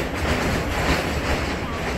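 An Ernad Express passenger train crosses an old bridge over the Cheruvathur river, heard from on board as a loud, continuous rumbling roar with rattling wheels and carriage noise and no talking.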